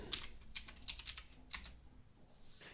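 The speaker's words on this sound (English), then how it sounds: "So I'm going to type sudo apt install CPU checker." Quick bursts of keystrokes on a computer keyboard while entering a Linux terminal command, soft clicky taps in short clusters with brief pauses, quiet and close.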